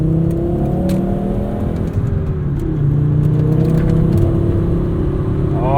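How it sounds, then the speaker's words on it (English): A 1997 Volvo 850 R five-speed with an IPD exhaust drives along, its engine droning steadily up and down through the gears, close and fairly loud, with a continuous road whir underneath. "Even the IPD exhaust is growing on me."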